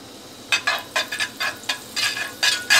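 Butter melting in a hot pan, short sizzling bursts and stirring scrapes coming in quick irregular pulses close by, with no speech.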